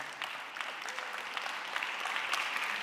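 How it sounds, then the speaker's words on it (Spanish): Church congregation at an evening worship service applauding the Holy Spirit, a steady, even patter of many hands clapping for a few seconds, moderately loud, with no voices. "Le damos un aplauso fuerte al Espíritu Santo."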